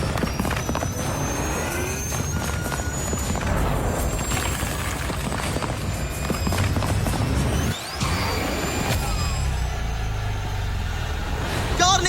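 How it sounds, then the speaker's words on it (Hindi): Formula E championship race car speeding past outdoors during a race against a cheetah, a loud broadband rush with rising and falling whine through most of the passage, a brief dropout near the end. "ये कार बहुत तेज है।"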